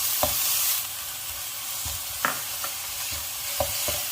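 Shrimp stir-fries in a pan with chili and garlic, giving a continuous close sizzle with a few sharp scrapes and clicks of a utensil against the pan, no voices.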